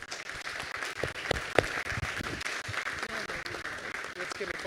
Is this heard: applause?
yes